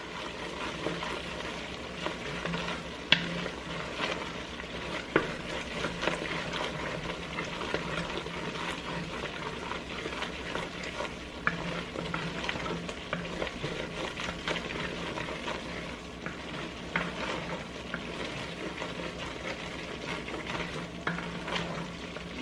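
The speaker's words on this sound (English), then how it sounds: "you just keep moving it around, and you're going to cook these vegetables down" Gumbo vegetables cooking down in a pot on a stove, stirred steadily, giving a continuous soft sizzle with scraping movement throughout, moderately close and with no talking.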